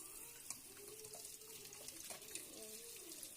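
Water from a tap runs steadily into a sink while strawberries are washed, a continuous hissing splash that stays at a moderate level with small shifting gurgles.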